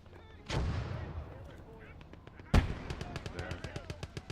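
Gunfire in the World War II video game Gates of Hell, two heavy booming blasts followed by a rapid string of sharp shots, with faint background battle noise.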